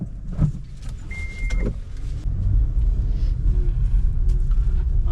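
Toyota Glanza/Baleno engine while driving, a steady low rumble of the engine and road noise inside the cabin, a faint brief whine early on, then a slightly louder constant drone with no voices.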